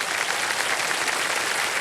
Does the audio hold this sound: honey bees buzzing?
no